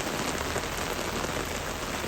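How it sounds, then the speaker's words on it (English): Rain falls continuously in Italy, a dense, loud, steady hiss of drops hitting surfaces with no speech over it. "We get so much rain here."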